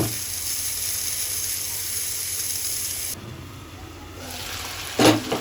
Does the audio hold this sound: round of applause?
no